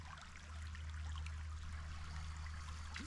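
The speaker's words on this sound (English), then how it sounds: "Just a baby little brook." A small creek flows steadily nearby during a trout fishing trip, a soft continuous trickle and babble of water with no talking.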